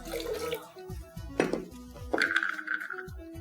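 Water poured into a kitchen mix of curd, ice and sugar for a lassi, with a splashing trickle, a couple of clinks against the vessel, and low background voices.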